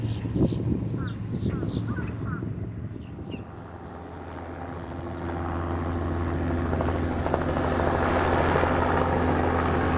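A police helicopter's rotor thumps and drones steadily in the distance over the waterfront in Sanford, Florida, growing louder over the clip, with birds calling and brief sounds early on.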